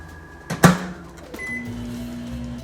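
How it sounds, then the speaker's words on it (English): An older 700-watt microwave oven hums steadily nearby, with a couple of sharp clicks and a clunk as it starts, then a low continuous drone. "We're using an older 700-watt microwave."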